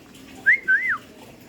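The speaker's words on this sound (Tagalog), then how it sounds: "Sipol na." A single close whistle in two quick pulses, sliding up and down in pitch, standing out briefly from a faint background hum.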